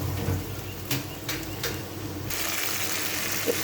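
A paste of ground cashew and poppy seed sizzles in hot masala for a dish of banana stem with paneer, with a steady frying hiss, a few soft stirring scrapes, and a louder, fuller sizzle in the last stretch.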